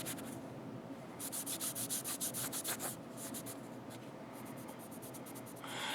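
A rag wiping a Springfield XDS pistol slide, close soft rubbing strokes in a quick rhythmic series, quiet with no talk.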